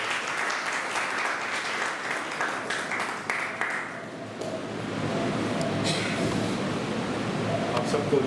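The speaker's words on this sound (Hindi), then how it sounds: "आइए प्रभु के दास को और प्रभु के वचन को ताली बजा करके" A church congregation at a Sunday service claps to welcome the pastor, a dense burst of applause that gradually thins out before a voice begins speaking over room noise.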